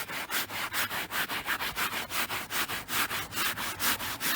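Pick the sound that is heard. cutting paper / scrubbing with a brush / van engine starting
scrubbing with a brush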